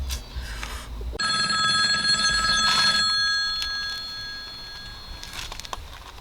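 A phone rings with a bright electronic tone that starts abruptly, holds for a couple of seconds, then fades under some rustling.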